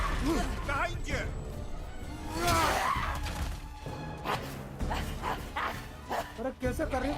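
Dog-like barking creatures in the video game God of War Ragnarok, several yapping barks and yelps mixed with battle clashes and game music, fairly loud, with someone talking over parts of it.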